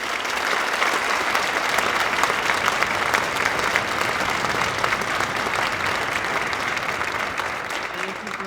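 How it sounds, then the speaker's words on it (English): Sustained applause from a concert audience for honors orchestra students and their teachers, a dense, steady wash of clapping at even loudness throughout, with no voices standing out. "Can we give the students and the teachers another round of applause?"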